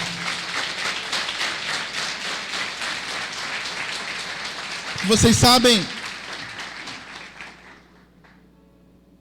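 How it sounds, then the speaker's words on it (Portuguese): A church congregation claps for the Lord, rhythmic applause running steadily under a preacher's voice, which rises sharply midway before the clapping fades to near silence. "Então dá um glória a Deus bem alto e aplauda ao Senhor."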